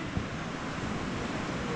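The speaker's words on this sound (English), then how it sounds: "few waves here, but no surfers out" Small sea waves wash onto a sandy middle beach at Paguera in a steady, soft surf wash, with faint wind noise.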